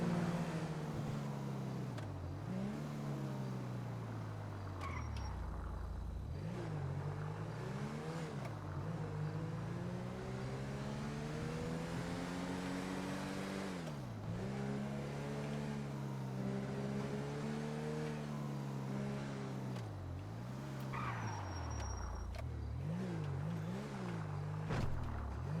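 A car driving in GTA V: a steady engine drone that rises and falls through repeated gear shifts and revs, close and continuous throughout.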